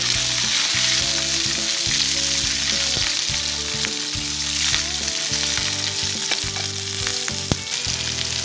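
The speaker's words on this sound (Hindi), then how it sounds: "मिर्चें भी, हरी मिर्चें भी तल गई है।" Green chillies fry in hot oil alongside browned whole dried chillies, a loud steady sizzle with crackling and stirring, beneath a background hum of repeated tones.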